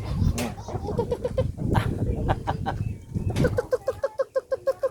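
Chickens cluck and call close by amid rustling and a voice, ending in a quick rhythmic series of clucks.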